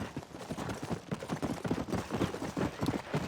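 Horse hooves clip-clop in the video game Red Dead Redemption, a steady rapid trot of hoofbeats at moderate distance over a busy background of game ambience.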